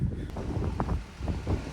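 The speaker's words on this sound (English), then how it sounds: "Just wanted to show you how windy it is up here at the minute" Strong wind buffets the microphone on a hilltop farm, gusting in uneven bursts with a low rumble for a couple of seconds.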